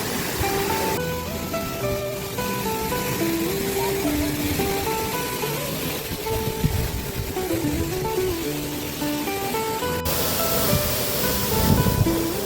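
A nearby waterfall beside a meal stop on a Char Dham pilgrimage route between Haridwar and Barkot roars as a continuous broadband rush, fairly loud and steady, with melodic background music playing over it.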